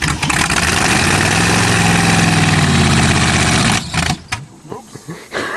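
An old Chevrolet engine cold starts and idles with a loud, rough rumble for several seconds, then cuts out and sputters irregularly toward the end.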